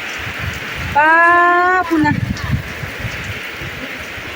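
Rain falls in a steady, even hiss throughout while someone speaks loudly over it for a moment partway through.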